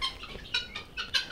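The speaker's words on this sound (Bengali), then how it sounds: "দেখতে পাচ্ছেন আমার খামারের তিথি মুরগিগুলা" Chickens on a poultry farm give a quick run of short, close clucks and calls, four or five bursts in just over a second.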